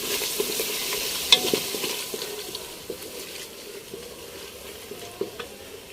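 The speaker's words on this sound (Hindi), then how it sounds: "चलो जी मसाला हमारा भुन गया है" Masala with green chili and tomato sizzles and fries in a pot, with a steady soft crackle broken by faint scrapes of stirring, close and fairly quiet, no voices.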